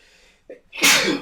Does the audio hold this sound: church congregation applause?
no